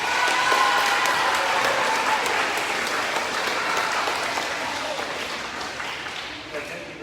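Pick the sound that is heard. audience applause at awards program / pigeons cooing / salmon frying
audience applause at awards program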